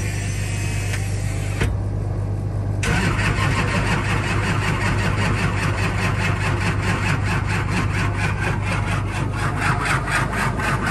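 A first-generation Cummins diesel engine cranks briefly and catches, then settles into a loud, steady, close idle clatter that runs without a break.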